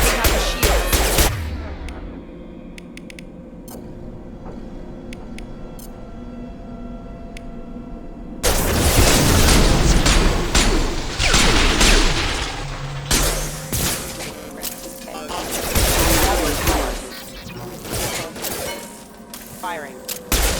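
Gunfire and explosions from the Mass Effect 2 video game, with a quieter opening giving way to dense, loud bursts of shots and booms that continue with brief lulls, sometimes layered under talk.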